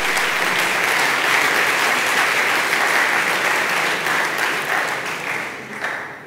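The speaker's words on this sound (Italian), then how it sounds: "a cui credo sia doveroso tributare un applauso" An audience at a finance conference on trust and financial advice in Italy applauds steadily for about five seconds, a dense, loud wash of clapping that thins and fades at the end, with no voices over it.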